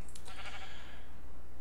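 A single sheep in a video game's farm area lets out a loud, close bleat lasting about a second, which then trails off into a steady background hum.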